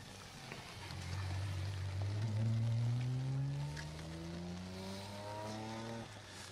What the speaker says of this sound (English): Here's the BMW of Keith Robertson. Hits that puddle.